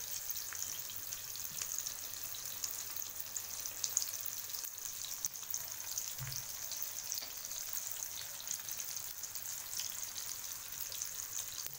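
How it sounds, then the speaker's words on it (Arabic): Tomatoes and peppers sautéing in ghee in a pan give a soft, steady sizzle and hiss throughout, faint and even, with one brief low bump partway through and no talking. "انا مش عايزه الطماطم تستوي، هي بس تشويحه بس كده مع السمنه"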